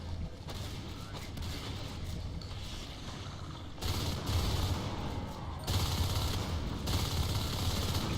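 Shotgun blasts and other weapon fire in the video game Natural Selection 2, a continuous rough barrage that grows louder and denser partway through, with no voices over it.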